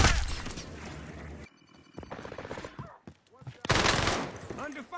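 Video game gunfire in a multiplayer match: bursts of shots fill the opening and closing seconds, loud and dense, with a quieter gap in between where other game sounds and scattered pops come through.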